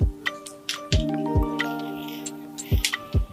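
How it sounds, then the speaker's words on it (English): Vegetables drop into a pan of browned onions and curry leaves, giving a few sharp clattering thuds and soft sizzling taps spaced irregularly, with faint ringing tones between them and no talking. "So now we're going to go ahead and add in the vegetables."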